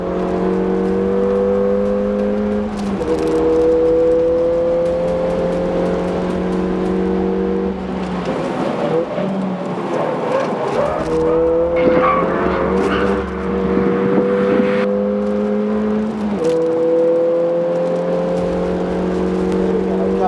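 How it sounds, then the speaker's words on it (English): A small car is driven hard around a dry race track on a brake-test lap. Its engine drones loud and steady, climbing in repeated revving pulls broken by gear changes, with wind and road noise throughout. "It's good fun throwing this little car around."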